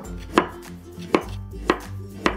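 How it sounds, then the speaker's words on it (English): A knife slices and minces ginger on a cutting board in four sharp, evenly spaced chops, close and distinct against a quiet background. "Slice and mince it."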